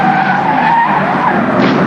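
A Suzuki GTi Cup race car skidding wide at Sandown in 1995, a loud continuous tire squeal and scrubbing roar mixed with engine noise throughout.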